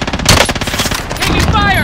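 Rapid automatic gunfire in the Call of Duty: Modern Warfare video game, a close, loud burst of fast repeated shots followed by a denser volley of firing with whizzing sounds.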